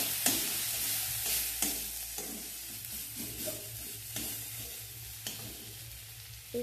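Prawn masala with turmeric and chili powder stirred in a kadhai, a quiet sizzle under repeated scraping strokes of a spoon against the pan, coming in rhythmic bursts about once a second.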